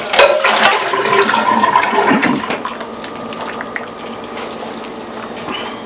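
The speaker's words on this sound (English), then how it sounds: "I think I might add a little hot water to this." Hot water splashes into a simmering pot of Mexican albondigas meatball stew with corn, a loud, close pour at first that settles into a steady, softer bubbling wash.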